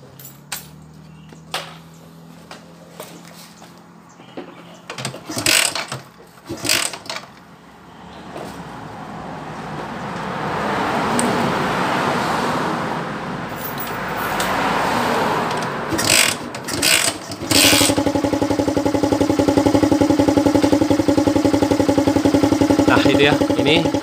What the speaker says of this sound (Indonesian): Kita akan coba hidupkan dulu motornya.